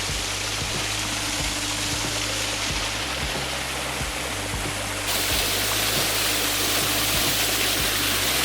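A small waterfall and stream in Surrey send out a steady, loud rush of falling water, unbroken and close, with no voices over it.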